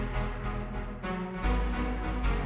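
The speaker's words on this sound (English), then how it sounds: "A really, really lush and rich chord." A lush, rich synthesizer chord sustains densely with a full low end. It pulses in rhythmic swells and shifts partway through, loud and steady on its own.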